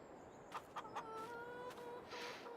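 Chickens cluck in a farming video game, a few short clucks followed by a sustained crowing call, heard alone over a steady background hiss.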